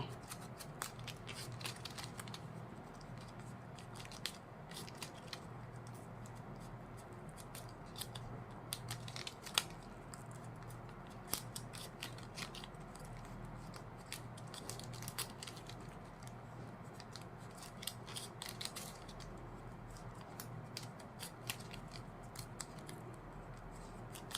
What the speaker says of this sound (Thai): นี่ค่ะเสร็จแล้วตัดปลายริบบิ้นทิ้งค่ะ